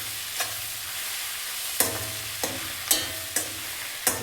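Puffed rice (mandakki) is stirred into a seasoning in a pan over a low flame for North Karnataka-style oggarane mandakki. A soft sizzle runs under about six sharp spatula scrapes and knocks against the pan.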